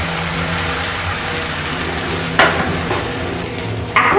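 Semolina batter spread across an oiled frying pan over medium flame gives a steady hissing sizzle, with two sudden louder bursts as more batter or oil meets the hot surface.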